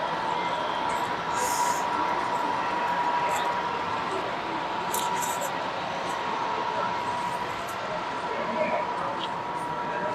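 Märklin model train running on a layout at a public train show, heard as a steady rolling hum and whir under constant crowd chatter, with nearby voices speaking throughout.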